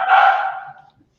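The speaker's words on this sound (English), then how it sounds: "So my dogs want to participate." A single short dog bark or yip, close and fairly loud, fading out quickly with no talk over it.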